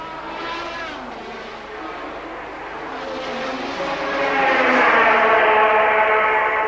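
1980s Formula One cars, a JPS Lotus leading an Alfa Romeo, race at the Belgian Grand Prix at Zolder; a sustained, rising engine whine swells louder as the cars close in, with no talk.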